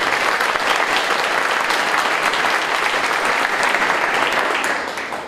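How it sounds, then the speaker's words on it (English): An audience at an Industry 4.0 workshop gives a sustained round of applause, dense even clapping throughout that fades out at the end. "So can we give a round of applause to the team?"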